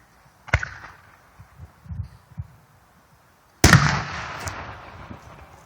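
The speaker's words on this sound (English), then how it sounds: "Multicolor peony with silver strobe pistol." A multicolor peony fireworks shell with a silver strobe pistil at a celebration fireworks demo: a sharp early pop, then a loud, close burst about three seconds later that trails into a long crackling, fizzing strobe tail.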